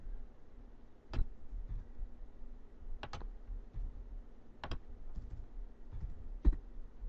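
Short bursts of computer keyboard typing as a search query is entered, a few quick clusters of soft clicks spaced a second or two apart, close and quiet against faint room hum.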